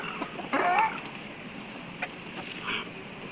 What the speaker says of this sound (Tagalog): Ah, mga nangingitlog na to.